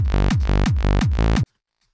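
Default preset of a bass generator synth plugin, heard as five thick, buzzy bass notes with falling pitch sweeps in a steady rhythm, loud and alone, ending abruptly into silence.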